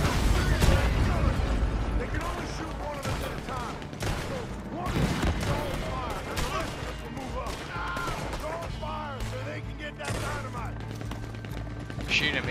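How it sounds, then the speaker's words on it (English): Gunfire in the online Western shooter Red Dead Redemption 2: repeated shots and bursts crackle throughout a busy firefight in a town, with an explosion-like thump mixed in and a player talking over the noise. "Shooting at me right now."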